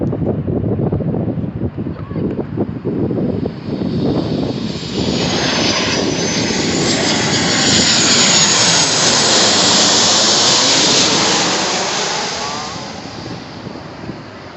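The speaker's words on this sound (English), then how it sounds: "There's a lot of airplane landings." A Southwest airliner lands at O'Hare airport on a gusty day, its jet engines rising into a loud, broad roar as it passes close overhead, then slowly fading away over several seconds.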